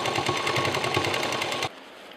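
A sewing machine stitches a bag in one steady, rhythmic run lasting most of the moment, then stops abruptly near the end, leaving quiet room tone.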